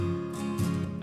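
An acoustic guitar recording with the reverb turned up too loud, sustained strummed tones washing together in a dense, smeared tail for about a second, with no voices.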